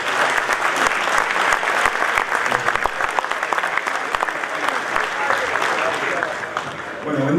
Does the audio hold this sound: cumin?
no